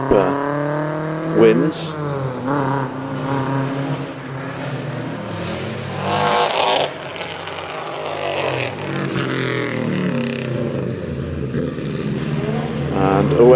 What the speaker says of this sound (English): one of my personal favourites, the Lancia Delta Integrale.